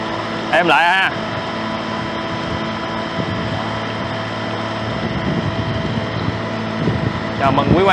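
An electric motor fitted to a small wooden boat runs on a test ride, giving a steady low hum with water wash, while voices talk over it.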